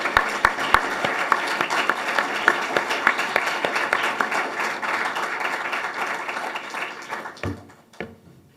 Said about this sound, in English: Larry and Howard, if everyone wouldn't mind giving them a round of applause just for everything they've done.